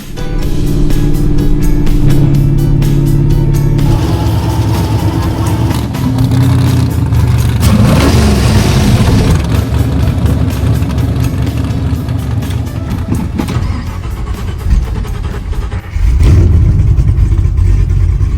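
A NASCAR-inspired 1985 Chevy C10 truck engine at the race track runs loud and close, idling roughly, then revving hard and accelerating with a sustained roar before settling back.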